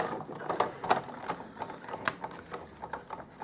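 A card in a 6x6 embossing folder is cranked through a manual embossing machine, giving soft, close ratcheting clicks and creaks in an irregular rhythm, no voices.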